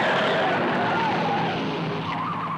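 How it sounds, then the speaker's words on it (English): A race car at roughly 175 mph in a late-1960s drive-in movie trailer revs hard and skids with screeching tires, a loud continuous roar and squeal that fades slightly toward the end. "revving past the red line, speeding beyond the danger point"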